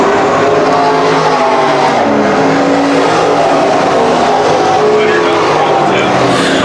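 Late model race cars roar around Can-Am Speedway in a feature race, a loud, dense, continuous engine drone with overlapping pitches, and a commentator talks over it throughout.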